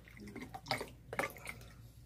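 Purified water poured into a container to fill it to the brim, quiet splashing and trickling with a few louder gurgling bursts, close and faint.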